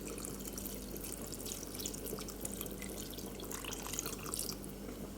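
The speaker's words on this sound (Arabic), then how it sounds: "حطيت الجزر والقرع، هبتدي ازود شوية مية" Water runs steadily into a pot of pumpkin and carrot soup, a continuous soft splashing wash that stays faint and even throughout, with no voices.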